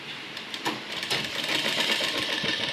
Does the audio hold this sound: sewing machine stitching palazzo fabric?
yes